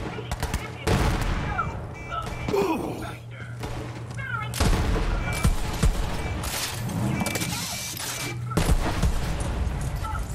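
Gunfire in Borderlands 3: dense bursts of automatic shots and thumping impacts mixed with game effects and music, running continuously throughout.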